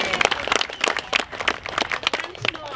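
A crowd applauds outdoors at the opening of the HEB Bocce Park, a scattered, moderately loud clapping that lasts a few seconds, with irregular claps rather than a dense roar.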